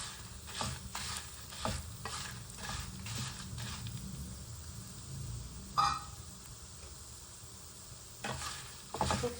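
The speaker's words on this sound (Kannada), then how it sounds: "ಸೊ ಸ್ವಲ್ಪ ನೀಟಾಗಿ ಬಾಡಿಸಿ ಎಣ್ಣೆಲಿ." Green chillies sauté in oil in a pan for brinjal sambar, with repeated scraping stir strokes at an irregular rhythm over a soft, faint sizzle, close and quiet, with no talking.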